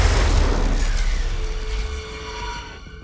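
A single heavy sniper rifle shot in the Wasteland 3 video game, a deep booming blast that rings out and slowly decays over a few seconds, loud and alone.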